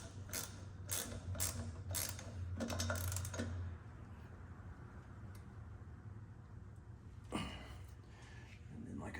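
A socket ratchet clicks in quick bursts while tightening a part on a Yamaha G1 golf cart, the ratcheting close and rhythmic at first, then a quieter stretch with one more short burst.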